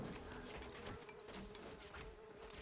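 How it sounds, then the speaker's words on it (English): A swarm of bees summoned by the hero Grimbeorn in the BFME2 Edain Mod strategy game buzzes as a faint, steady insect drone with a continuous hum throughout. "He's summoning bees"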